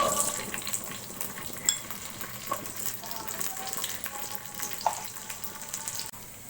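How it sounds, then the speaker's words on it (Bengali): Cashews, pistachios, almonds and raisins fry in hot ghee, giving a steady close sizzle and crackle throughout with a few sharp pops and faint stirring, and no voices. "এখন এই ঘিয়ের ভিতর আমি বাদাম দিয়ে দিচ্ছি কিছু।"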